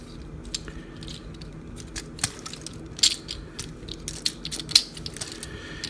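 A plastic Optimus Prime transforming toy clicks and ratchets as panels are flipped and wheels folded down, a string of small close snaps and clacks over a quiet room with no speech.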